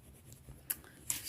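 Two short scratching strokes of a marker across fabric while marking half an inch for a bell sleeve, faint and close with quiet room tone between.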